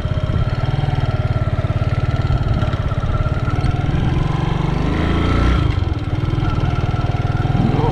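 A Racer Tourist 150 motorcycle engine idles steadily up close, a loud, even low chug with a rattly mechanical edge that holds throughout.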